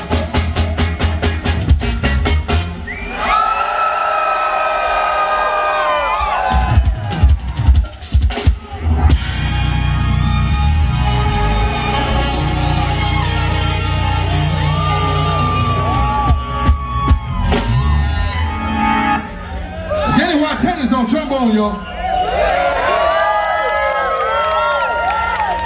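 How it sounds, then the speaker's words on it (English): A concert crowd at a live funk band set at Summercamp festival screams and cheers loudly for long stretches, with sharp whoops and shouts, briefly dipping before roaring up again. "I want y'all to scream to the top of your lungs."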